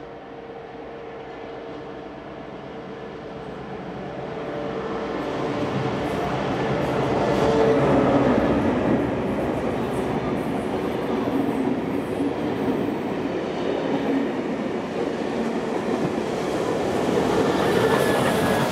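Locomotive 42103 hauls a shuttle train toward Scarborough near North Wollongong, New South Wales, approaching and rolling past, its engine droning and wheels rumbling steadily, growing louder midway and staying close until the end.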